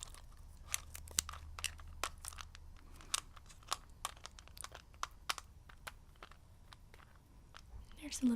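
Zelda-themed mints are crunched and chewed right at the mic in a steady run of crisp clicks and cracks, quiet and intimate, with soft whispered speech underneath and a louder rustle at the end.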